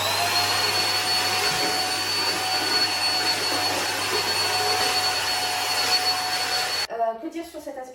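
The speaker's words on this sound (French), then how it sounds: "c'est un aspirateur à main, aspirateur de la marque Predict." A lightweight Predict handheld vacuum cleaner runs with a loud, steady whirring whine for about seven seconds, then shuts off as a voice begins.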